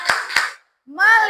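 Two sharp claps in a classroom chant routine, close and loud, followed by a short rising vocal call after a brief gap.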